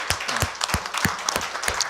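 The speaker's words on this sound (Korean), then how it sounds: "박수 한번 쳐주십시오." A Korean conference audience breaks into applause, with irregular overlapping claps filling the whole stretch at moderate loudness.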